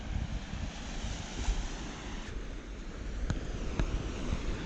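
Broadband surf rolls steadily onto a beach beside a bush campsite, a continuous washing roar with faint wind and no talk.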